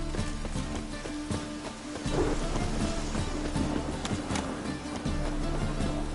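Steady rain in the video game The Witcher 3, a continuous hiss over low rumbling game ambience, with faint irregular taps and thuds mixed in, no talk.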